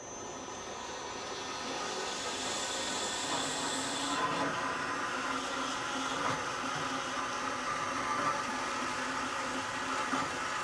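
A coarse-pitch 4/6 saw blade cuts through a steel part with a steady, moderately quiet grinding drone that holds evenly throughout, with no talking.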